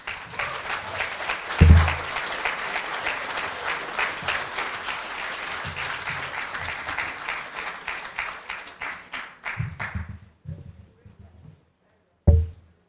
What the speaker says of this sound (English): Another round of applause for Mr. Williams.